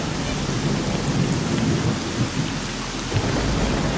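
Rain and thunder in the video game S.T.A.L.K.E.R.: Shadow of Chernobyl, a dense, steady downpour with low rolling thunder rumbling underneath, loud and continuous with no talk.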